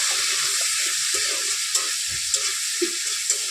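Chicken pieces sizzle and fry in hot oil over onions for chicken chow mein, a steady close crackling hiss with occasional stirring clinks throughout.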